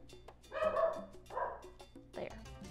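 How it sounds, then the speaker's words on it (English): A schnauzer-poodle mix dog barks indoors, two loud yappy barks followed by a shorter third, close to the microphone. "Sir barks a lot. He's part schnauzer, part poodle, all mouth."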